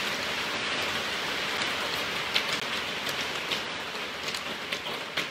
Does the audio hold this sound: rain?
yes